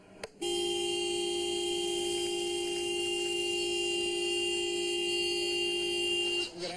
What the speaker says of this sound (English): Honk the horn, ma'am.